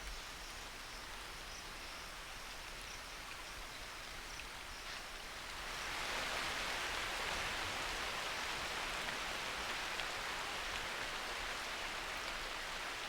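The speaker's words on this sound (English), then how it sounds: "At daybreak, the rain resumes." Rain resuming at daybreak in a parched Asian landscape: a steady hiss of falling rain that swells noticeably heavier midway and then holds as a dense, continuous wash.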